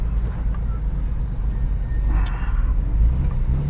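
A car with a freshly installed engine on a gentle test run, a steady low engine rumble and road noise heard from inside the cabin, with a slight rise in the drone partway through.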